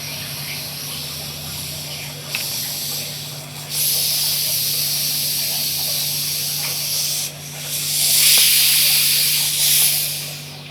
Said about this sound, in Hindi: ढक्कन खोलने पर ये गैस जो निकल रही है ये कितना टाइट है और कितनी ज़ोर से आवाज़ इसकी है